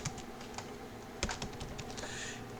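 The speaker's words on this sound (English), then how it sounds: "notice over here I'm typing f of x" Quick, uneven clatter of keys being typed on a computer keyboard while entering a math function, close and moderately quiet, with a few sharper key strikes and no talking.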